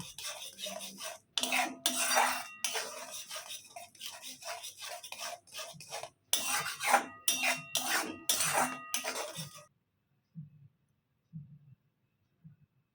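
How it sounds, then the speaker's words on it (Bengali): Mustard paste being stirred and sautéed in a pan for a Pabda fish curry, with a run of scraping, clattering utensil strokes that stops abruptly, leaving a few faint taps in near silence. "সর্ষে বাটাটা দিয়ে এবার ভালো করে কষিয়ে নেব"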